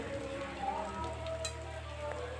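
Fried eggplant sizzles in a pan with spices, a steady close hiss and crackle, with faint scraping as it is turned over.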